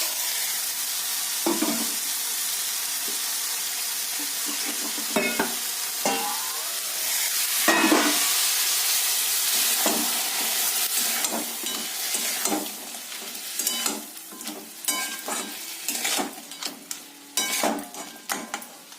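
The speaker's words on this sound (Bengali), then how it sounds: "ভাজা ক্যাংরাগুলো এর মধ্যে দিয়ে দিচ্ছি" Fried crabs with whole garam masala sizzling loudly in a pan for a Bengali crab curry, a continuous dense frying hiss broken by repeated scrapes and clinks of stirring that grow more frequent toward the end.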